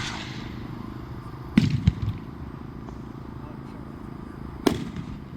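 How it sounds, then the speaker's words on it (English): Two one-pound black powder firework motors with silver tails feeding a glitter skyline with a bottom shot, at a pyrotechnics showcase, heard as two sharp booming reports about three seconds apart over a low rumbling crowd. "It's 2 1-pound BP motors with silver tail to a glitter"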